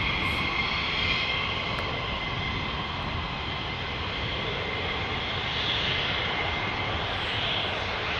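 A steady, continuous roar of F-15 jet aircraft flying overhead, a broad unbroken rumble holding level for several seconds with no voices.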